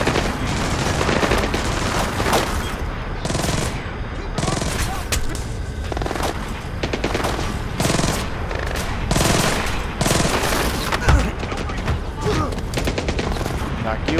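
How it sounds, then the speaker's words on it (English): Sustained small arms gunfire echoing through an airport terminal in Splinter Cell: Blacklist, continuous rapid bursts with heavy rattling shots and occasional louder booms, loud and dense throughout with faint voices underneath. "We're hearing small arms fire in the terminal"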